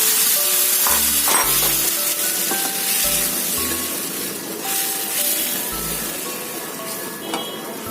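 Egg curry masala with potatoes frying in a pan, hissing and sizzling loudly and steadily as a splash of water goes in and it is stirred, with a few soft scrapes and knocks of the spoon.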